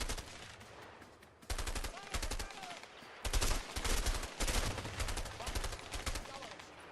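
Bursts of automatic gunfire in the co-op video game A Way Out come in several dense volleys separated by short gaps, loud and close.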